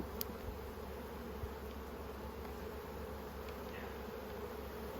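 Honeybees swarming around an opened hive during an inspection, a dense continuous buzzing drone with occasional louder passes of individual bees near the microphone, no talking.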